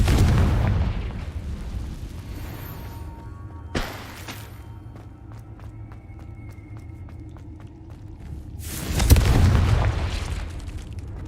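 Blasting spell explosions from the wizarding video game Hogwarts Legacy: a heavy booming burst at the start, a sharp crack near four seconds, and another loud rumbling blast near nine seconds, with quiet ringing between.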